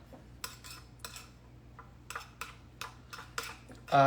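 Carrots stirred with Parmesan in a bowl, sparse scattered clinks and scrapes of a utensil against the bowl over a low hum, fairly quiet and close.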